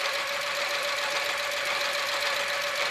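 A sewing machine stitches fabric in a fast, even motor whir, holding steady and moderately loud with no pauses and no voices.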